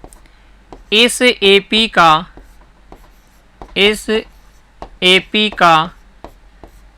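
During a math lesson, chalk or a marker squeaks across a board in short bursts of quick strokes, separated by pauses, while a teacher talks.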